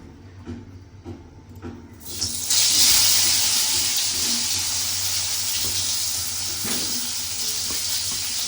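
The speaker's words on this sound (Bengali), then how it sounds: "এই যে কড়াতে তেল দিয়ে দিয়েছি, তেল গরম হয়ে গেছে, চলো তাহলে পটলগুলো ভেজে নিই।" Pointed gourd (potol) pieces hit hot oil in a wok for a vegetarian fennel-potol dish, and a loud, steady sizzle bursts in partway through and keeps hissing to the end, preceded by soft kitchen clatter.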